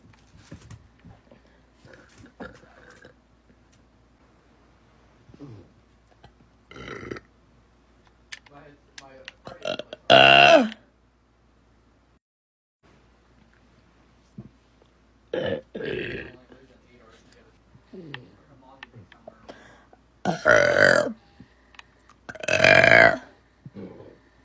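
A woman belches repeatedly: one strong burp early on, then two loud burps in quick succession near the end. Softer smaller burps and faint rustling noises fill the quieter gaps between them.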